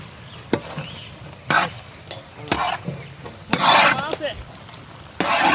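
A ladle scrapes and stirs through a pot of village-style goat meatballs with chopped boiled eggs, giving intermittent metallic scrapes and knocks with quiet gaps between strokes.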